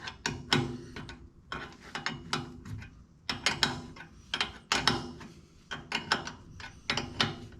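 Hydraulic hose fittings being tightened on a Kubota L4701 tractor during a rear remote valve install, heard as close metallic ratcheting clicks in quick repeated bursts, with no voices.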